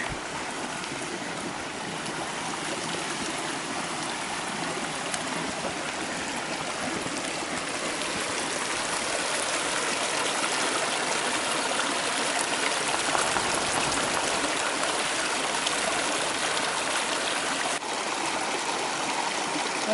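A mountain river flows steadily nearby, a continuous broad rushing and trickling of water with no pauses, heard alone at a fairly even loudness.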